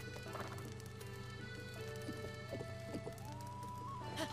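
Quick hollow clip-clop of a blue horse's hooves in Zelda Breath of the Wild, a loose rhythmic trot under soft game music.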